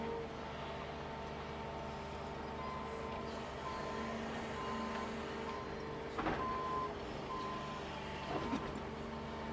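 A dump truck reverses near a Doosan excavator on a dirtwork site. Its backup alarm beeps steadily and repeatedly over a constant engine rumble, with a couple of brief clanks near the end.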